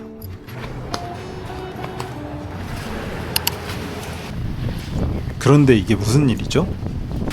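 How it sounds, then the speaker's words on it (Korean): Strong wind gusts across Yonehara beach on Ishigaki, Japan, buffeting the microphone with a rough, roaring rush while people talk over it. "바람 엄청 불고 엄청 춥다"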